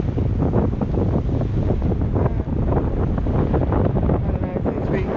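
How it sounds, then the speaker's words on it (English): Strong 17 to 18 knot wind roars across a sailing boat at sea, buffeting the microphone steadily with a constant wash of water underneath. "The wind's picked up."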